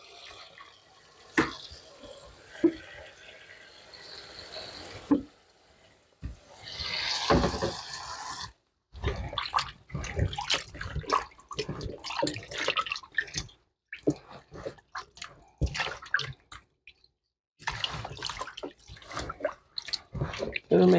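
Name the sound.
washing oxtail in vinegar water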